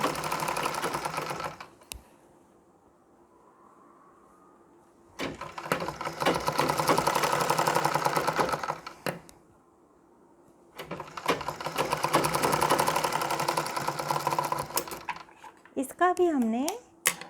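A sewing machine stitches the waist part of a Nauvari saree in three loud bursts of rapid whirring, separated by quiet pauses with faint speech.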